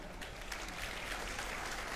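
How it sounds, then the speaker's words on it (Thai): An audience claps at an outdoor school sports event held at a stadium, a steady, fairly faint spread of applause throughout with no voices. "ขอเสียงปรบมือกับผู้ใหญ่ใจดีของเราอีกครั้งนึงครับ"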